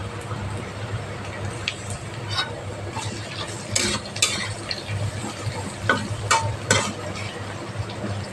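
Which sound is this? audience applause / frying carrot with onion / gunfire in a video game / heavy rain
frying carrot with onion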